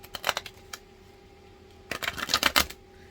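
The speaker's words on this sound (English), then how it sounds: "Let's shuffle this up a little more." Tarot cards being shuffled by hand, a quick riffle burst early, a pause with faint steady hum, then a longer louder run of flicking, slapping card sounds, close up and without talk.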